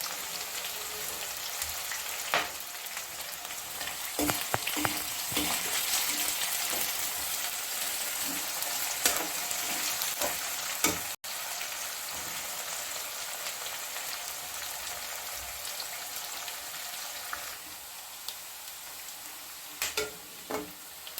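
Onion, green chillies and curry leaves fry in a pan for lemon rice, making a continuous close crackling sizzle with scattered pops and occasional stirring scrapes throughout.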